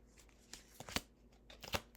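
A deck of tarot cards being shuffled by hand, heard as a run of soft, quick riffling bursts and sharp flicks at close range, fairly quiet and with no talk.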